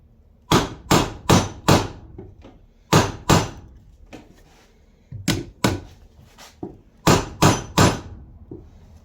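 Sharp hammer blows strike a metal hoop onto a wooden barrel, landing in loud clusters of three or four evenly spaced hits with short pauses between groups.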